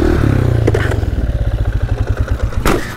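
A motorcycle engine runs close up to burn off the fuel left in its carburettor, a loud rapid pulsing chug that slows and sputters as it runs dry, with a couple of clanks.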